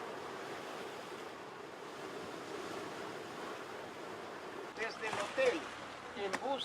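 Powerful ocean waves surge and hiss against the rocky shore of the Galapagos Islands, a continuous rushing wash that swells louder near the end, with talk over it.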